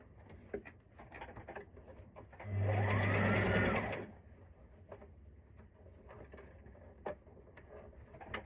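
A sewing machine back stitches the seam of a maxi skirt, one loud steady whirring run of about a second and a half, framed by quieter handling clicks and taps.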